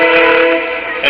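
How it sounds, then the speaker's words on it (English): A train near a farm sounds a sustained, loud horn blast that holds steady for over a second and swells again at the end, with no talking over it. "and a farm train"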